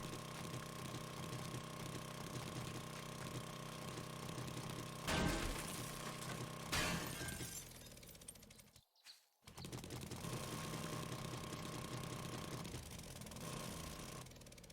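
A gas-powered auger drill in 7 Days to Die runs with a steady droning motor, interrupted by grinding bursts as it bites into material, a brief cutout, then resumes its even whirr.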